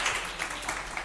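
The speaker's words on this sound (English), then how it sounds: "So I want to give her a round of applause for everything she's done." An audience at a club kickoff meeting and welcome brunch gives Miriam a round of applause, with steady, dense clapping from a roomful of people held at an even level for about a second.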